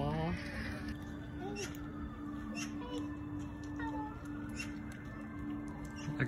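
Cats, including a little one called Maggie, meow in short rising calls among people talking close by.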